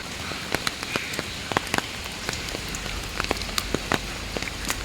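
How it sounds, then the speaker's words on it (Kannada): Rain patters steadily on a surface outdoors, with scattered sharper drops standing out against a dense, even wash of falling water; no voices. "ಆ ಮಳೆಯ ಚಟಪಟ ಸದ್ದು ಆ ಹಕ್ಕಿಗಳ ಚಿಲಿಪಿಳಿ ಎಲ್ಲ ಕೇಳೋದು ನಮ್ಮ ಕಿವಿಗಳಿಗೆ ಹಬ್ಬ ಅಂತ ಅನಿಸ್ತಾ ಇತ್ತು"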